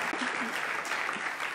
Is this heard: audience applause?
yes